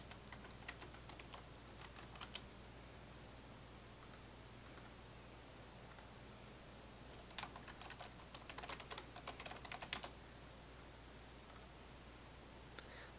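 Typing on a computer keyboard in bursts of quiet clicking keystrokes, sparse at first and then a denser run of rapid keys near the end, over a steady low hum with no talking.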